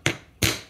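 Two sharp, loud hammer blows on copper being shaped into heart earrings, each a close metallic strike with a short decay, about a third of a second apart.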